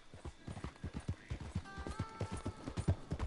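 Hooves of a horse in Red Dead Redemption 2 beat out a fast, steady galloping rhythm at close range, with faint background tones and no talking.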